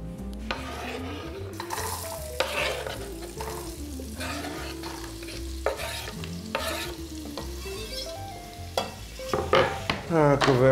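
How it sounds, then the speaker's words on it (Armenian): Sliced carrot half-moons frying in oil in a pan, with steady sizzling under repeated stirring scrapes and occasional clinks of a utensil against the pan, getting busier toward the end. "Գազարը կտապակեմ բուսայով։"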